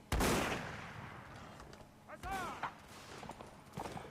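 Musket-style gunshots in a Mount & Blade North & South mod line battle: a loud sharp crack opening the clip, then scattered distant shots and a brief chiming tone, with a voice talking underneath.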